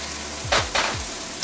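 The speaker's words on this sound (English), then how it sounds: "just like our first sear, we're going to let that go for another 2 minutes" Beef steak coated in cornstarch sears in a hot wok with a steady close sizzle, broken by two brief louder bursts of frying as the pieces shift, and no speech.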